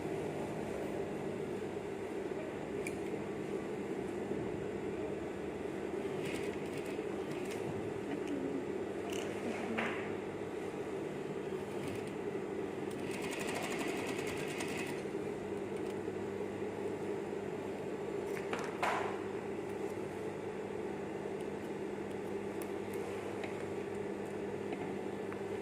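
An electric sewing machine stitches a hazmat protective suit in a long, steady run, its motor hum and needle whir continuous at a moderate, close level with brief louder bursts of stitching and no voices.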